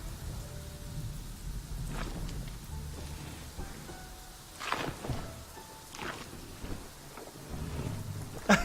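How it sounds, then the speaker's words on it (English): Rainy thunderstorm in the video game Prehistoric Kingdom, a low patter of rain beneath several sharp cracks and rumbles of thunder spaced a few seconds apart, heard without any talking. "That thunder is awesome."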